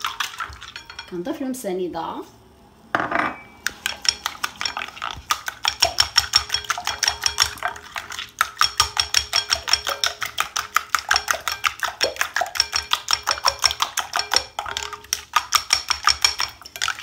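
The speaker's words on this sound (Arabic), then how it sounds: "نفس نص البيضات كنطربو مزيان بهاد الطريقة" Eggs are whisked in a bowl for crêpe batter: after a brief spoken phrase, a rapid, steady clinking rhythm of the whisk against the bowl runs close and continuous for about thirteen seconds.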